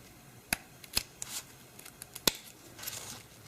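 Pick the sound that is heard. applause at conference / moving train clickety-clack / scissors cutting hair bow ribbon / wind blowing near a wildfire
scissors cutting hair bow ribbon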